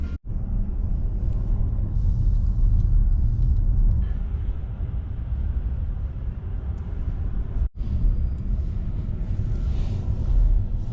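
Inside a car driving through London, a steady, loud low road-and-engine rumble runs throughout, broken only by two very brief dropouts, with no talking.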